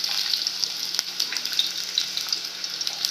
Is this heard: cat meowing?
no